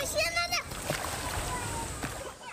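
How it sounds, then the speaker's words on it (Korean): Children splash in cold mountain valley stream water, with bursts of splashing close by amid flowing water and children's voices. "아이들은 차가운 물 속에서 물장구를 치며 즐거워합니다."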